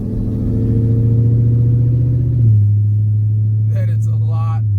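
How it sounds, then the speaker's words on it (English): A roughly 1000 hp Jeep Trackhawk with its exhaust opened runs with a loud, deep, steady rumble that drops in pitch midway, and someone speaks briefly over it near the end. "open up this exhaust, you'll quickly find out"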